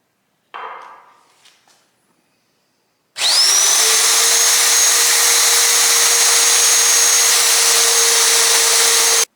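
A power drill bores holes in the steel frame of a Peterbilt 359 EXHD truck under restoration. A short rattle of handling comes first, then the drill spins up loud and close and holds a steady, high, continuous whine to the end.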